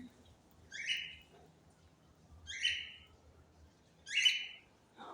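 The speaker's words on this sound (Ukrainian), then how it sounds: "Макс, а ти бачив, хто тут щебече? Це тут пташки." Small birds chirp among palm trees in Lviv, three bright bursts of twittering spaced a couple of seconds apart over a quiet low background.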